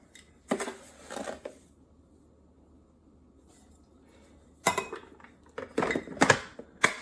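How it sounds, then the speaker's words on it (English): Granulated sugar is poured from a measuring cup into all-purpose flour in a mixing bowl for blueberry scones. It comes as two short, gritty rustling bursts with light clinks of the cup, separated by a quiet pause. "Now we're going to add half a cup of granulated sugar."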